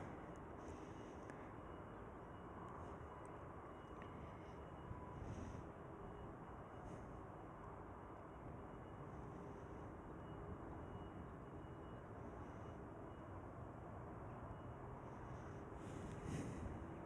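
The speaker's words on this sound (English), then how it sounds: "There is KLM Cargo 747, Queen of the Skies, going towards Miami." A KLM Cargo Boeing 747 departing Schiphol, heard as a steady, broad engine roar that holds evenly at a distance throughout, with slight wind noise and no talking.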